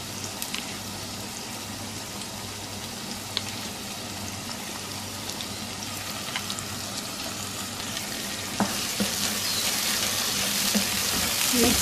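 Tomato paste and yogurt sizzle steadily in hot oil for an achari chana pulao, stirred now and then, with a continuous close frying hiss and a few soft scraping clicks throughout.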